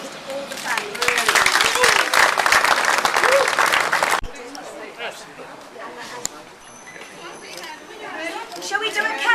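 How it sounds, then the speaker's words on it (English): Big round of applause from a live crowd at a tribute event, loud dense clapping for about four seconds, then fading into murmuring chatter and scattered claps. "could you give a big round of applause to all the family?"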